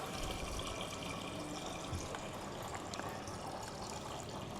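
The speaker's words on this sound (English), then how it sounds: "this is how you fill the water in your Ninja Luxe Café" Water pours steadily into the removable water tank of a Ninja Luxe Café espresso machine, a continuous close splashing fill of reverse osmosis water with no talking.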